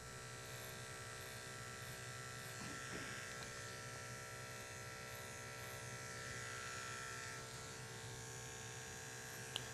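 Detachable-blade electric hair clipper running while cutting hair in a reverse fade, a steady close buzzing drone holding for the whole stretch with slight shifts in tone.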